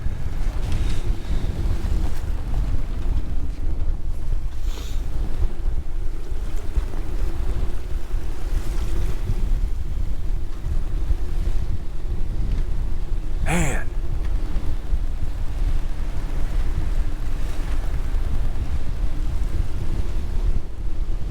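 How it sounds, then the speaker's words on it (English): Strong, constant wind buffeting the microphone outdoors with a deep roar, and faint water sounds beneath throughout. "And as you no doubt can hear, the winds are still pretty bad today."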